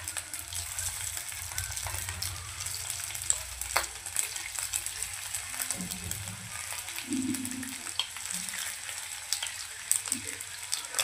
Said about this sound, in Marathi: आणि यांनाही सेम त्याच पद्धतीने आपण काय करूया, फ्राय करून घेऊया.